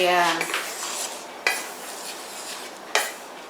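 Yeast mixture for homemade soft pretzels stirred in a bowl, a utensil scraping and clinking against the bowl in a few sharp strikes over a light background hum.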